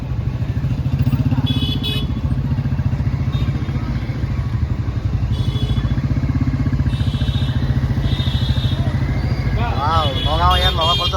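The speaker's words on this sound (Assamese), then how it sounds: "বুলেটত চলি আছে হনুমান, বুলেটত যাব হনুমান" A Royal Enfield Bullet motorcycle rides through the streets of Nagaon town, its engine thumping steadily and loud throughout, with traffic noise around, a couple of horn-like tones and people talking near the end.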